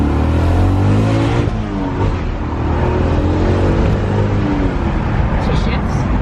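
BMW Z4 accelerating hard and shifting gears on the road, a loud, close engine roar that rises and dips as it changes gear, with people talking over it.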